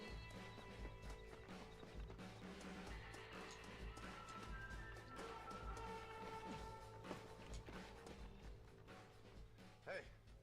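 Horse hooves clip-clop in the Western video game Red Dead, steady and mid-distance, beneath a dense game soundtrack with music, an occasional whinny and voices talking throughout.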